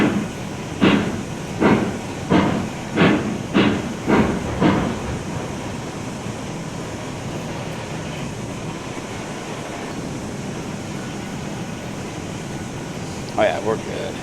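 A steam train rolls along in the railway game Railroads Online, with a run of rhythmic chuffing bursts in the first few seconds, then a steady hissing rumble of the moving train and a brief chirp near the end.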